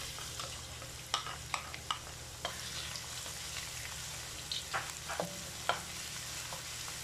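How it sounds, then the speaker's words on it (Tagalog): Garlic fries in a pan of pork for ginataang baboy, giving a quiet steady sizzle broken by scattered sharp pops and utensil scrapes, with no voices. "Sunod ko na po ang bawang."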